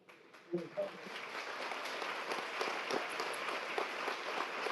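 A large audience at a graduation ceremony claps steadily, a dense patter of many hands that swells after a few scattered early claps and keeps going.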